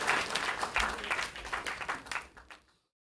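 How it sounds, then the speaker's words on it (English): Brief, lively applause from the crowd at a Saint Lucia Independence luncheon, greeting the Prime Minister with dense clapping that fades out over about two and a half seconds. "a round of applause to the Prime Minister of St."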